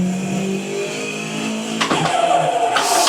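A car in a sim racing game drifts through a corner with a third-gear kick and a hard e-brake before crossing the grass; a loud, steady engine drone rises into a harsh revving burst, with brief rough scrapes near the end.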